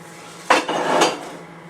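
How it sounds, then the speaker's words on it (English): A lid goes onto a heavy pot with a quick metallic clank and a short rattle as it settles. The sound is close and alone. "all we have to do is put the lid on it and set it aside"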